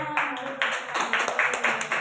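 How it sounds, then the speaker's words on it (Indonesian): A group claps in an Indonesian school setting: a series of sharp, fairly regular claps over a low murmur, moderately close. "Tepuk tangan untuk semuanya."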